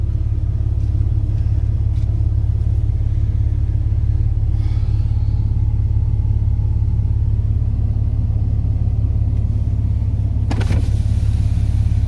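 A Massey Ferguson 750 combine with fuel problems runs at a steady idle, its deep continuous engine rumble loud and close throughout, with a faint metallic rattle near the end.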